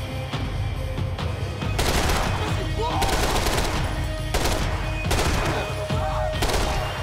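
Dense, loud gunfire from a Max Payne 3 shootout, with rapid bursts and single shots layered over continuous action noise for the whole stretch, plus occasional speech.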